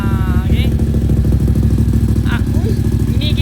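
A Moto Morini X-Cape 1200 motorcycle engine idles steadily after an oil change at its first service, a deep, even throbbing thrum up close, with someone speaking briefly over it.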